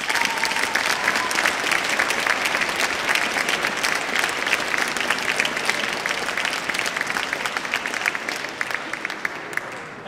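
Sustained applause from an audience after a performance by a combined choir of music students and regional teachers, dense steady clapping filling the hall for the whole stretch with a faint murmur of voices beneath.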